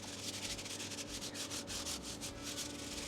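A hand firmly rubbing material down onto a wooden fence in the corner of a CNC setup, a steady rhythmic scrubbing swish repeating close up and moderately loud, with no voices.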